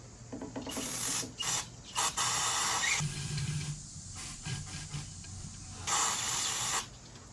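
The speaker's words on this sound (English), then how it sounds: "pumping some brake clean in there" Brake cleaner sprayed into a VW Beetle fuel line in a tunnel, heard as loud hissing aerosol bursts in several separate blasts of varying length, close to the mic.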